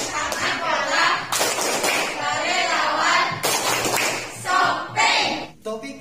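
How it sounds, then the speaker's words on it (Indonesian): A group performs tepuk kalong, a rhythmic hand-clapping routine at the start of a school lesson, with quick claps and slaps mixed with children's voices and chanting throughout. "Tepuk kalong."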